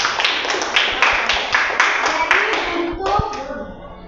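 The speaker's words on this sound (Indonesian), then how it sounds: "Boleh kita tepuk tangan dulu?" A classroom audience claps hands in a short burst of applause during a lesson, with rhythmic, fairly close claps that fade out after a few seconds.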